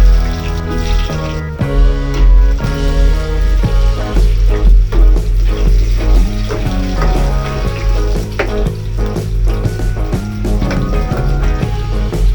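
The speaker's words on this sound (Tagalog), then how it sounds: "ipiprito muna natin itong patatas at itong ating carrots" Loud, continuous sizzling and crackling of potatoes and carrots frying in oil, close up, with constant spattering pops and no voices.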